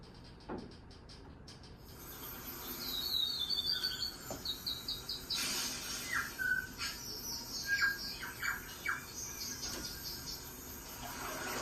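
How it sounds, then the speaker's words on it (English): Bright bird calls and chirps in the Peruvian jungle come in scattered short bursts over a faint insect drone and soft rustling. The calls are moderately close, with no talking. "Yes, the bird song, and we can also call it the bird call."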